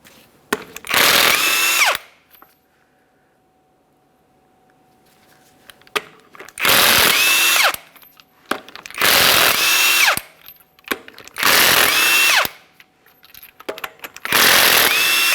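A power tool spins off 22mm lug nuts from the front wheel of a 2017-2023 GMC Acadia in five loud, whirring bursts of about a second each, separated by quiet pauses.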